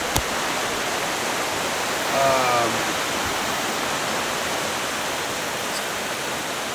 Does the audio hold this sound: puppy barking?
no